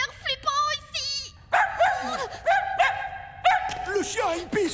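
A cartoon dog in an animated series gives a run of yips and whining barks in quick uneven bursts, close and loud, mixed in with excited voices talking.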